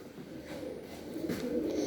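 Tumbler pigeons coo softly nearby, low murmuring calls with a faint rising sweep partway through, over a steady background hum.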